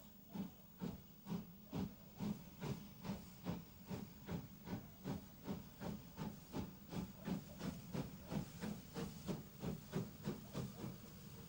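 A steam train pulls out on the line toward Northiam, its exhaust chuffing in an even, quickening rhythm of soft hissing beats, heard at a distance and faint, with no talk.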